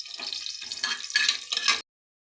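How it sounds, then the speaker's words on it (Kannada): Garlic and dried red chillies sizzle hard in hot oil for a tempering, crackling in several loud, bright bursts before cutting off abruptly. "ಒಣಮೆಣ್ಸಿನ್ಕಾಯಿನ ಕಟ್ ಮಾಡಿಕೊಂಡು ಹಾಕೋತಾ ಇದ್ದೀನಿ ಫ್ರೆಂಡ್ಸ್ ಒಗ್ಗರಣೆಗೆ"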